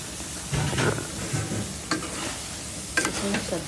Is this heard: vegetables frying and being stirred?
yes